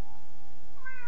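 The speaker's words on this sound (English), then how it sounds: "Classic meow." A short cartoon meow from Gary the snail in the SpongeBob Battle for Bikini Bottom video game, a single clear cat-like call that rises in pitch near its end, heard alone and up close.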